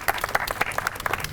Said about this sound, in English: Let's give Gretchen a huge round of applause